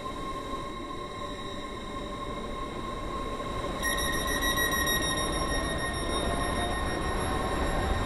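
A train running in the Roblox railway game SCR, a steady rumbling roll with a persistent high whine that grows louder and brighter halfway through, with no talk.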